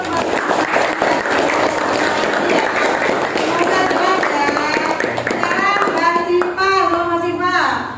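An audience of schoolchildren claps in a classroom lesson, brisk clapping at first, then children's voices and chatter take over toward the end.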